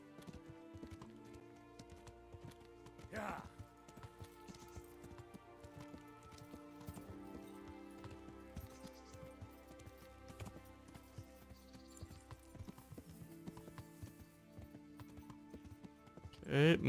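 Galloping horse hooves from the medieval video game Kingdom Come Deliverance, a steady clip-clop rhythm running under game music and occasional low talk.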